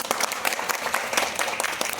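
Vigorous, steady applause from a gathered crowd at a meeting, honouring Sandhya Gupta, with dense overlapping claps throughout.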